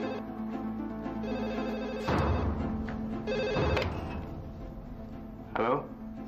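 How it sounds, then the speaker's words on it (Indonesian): A telephone rings inside a family home in an Indonesian TV drama, a steady electronic ring running through the scene while voices speak over it in short bursts. "Jangan-jangan Ana yang telepon."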